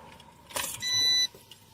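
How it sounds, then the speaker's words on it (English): A car engine is started with a brief cranking burst, followed by a steady electronic chime for about half a second, with quiet idle afterward. "I turned my car back on."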